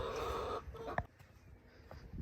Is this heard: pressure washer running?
no